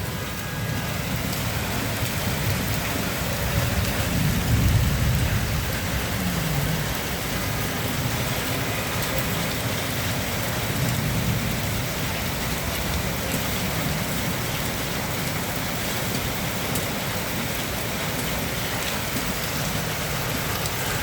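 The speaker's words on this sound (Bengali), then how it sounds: "প্রচুর বৃষ্টি হচ্ছে।" Heavy rain falls on a waterlogged street, a continuous, even hiss of drops hammering surfaces with a faint low rumble of traffic underneath, loud and close for the whole stretch without any voices.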